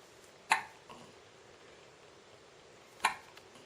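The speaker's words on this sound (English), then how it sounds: "These hiccups are always surprising." A large-pawed pet hiccups twice, each a short sharp squeak-like click spaced a few seconds apart and standing out against a quiet indoor room.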